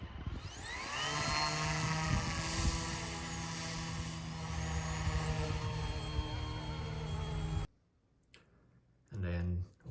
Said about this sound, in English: the spool up of the helicopter, you know, makes wonderful noise